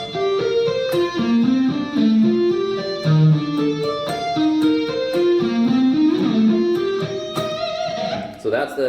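Electric guitar lead line from a song, played in steady straight eighth notes with a bright, sustained distorted tone. The line is loud and continuous, running alone throughout without any voices over it.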